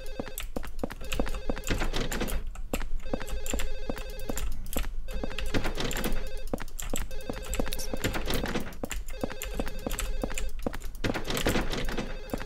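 An old-style telephone bell rings in Silent Hill 4, repeating in regular bursts with short gaps between, loud and clear, with a faint clattering under it and no talk.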